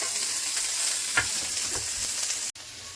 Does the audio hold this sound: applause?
no